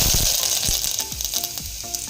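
Curry leaves dropped into hot oil with garlic, cumin and mustard seeds for Kathiyawadi sev tameta shaak, giving a steady bright sizzle with scattered crackles and clicks from the pan, close and fairly loud.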